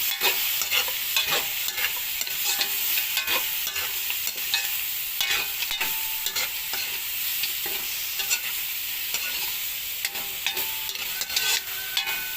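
Blood and liver are stirred and sautéed in a hot pan, giving a continuous sizzle broken by frequent scraping stirs of a utensil. The sounds are close and moderately loud, with no talking.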